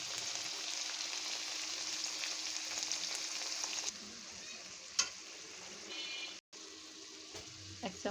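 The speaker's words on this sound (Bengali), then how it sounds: "এখন আমি পেঁয়াজ একটু ভাজা ভাজা করে নিচ্ছি, তারপর একটু আদা রসুন বাটা দিয়ে দেবো।" Onions frying in a pan with ginger garlic paste, a quiet steady sizzle that softens midway, with a few light spoon taps and a brief cut near the end.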